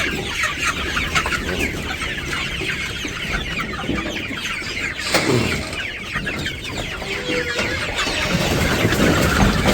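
A dense chorus of chickens clucking and chattering nearby, continuous and loud, with a low background hum.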